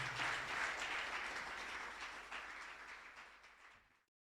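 A church congregation applauding, a broad wash of many hands clapping at once, fairly distant and soft, holding steady before tapering off and ending in silence.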